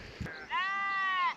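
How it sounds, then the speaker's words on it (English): Sheep bleat on an open mountainside on a morning trail run, one clear, fairly close, drawn-out bleat after a brief knock. "I don't know if the mic's picking up the sheep around here, but they're so loud this morning"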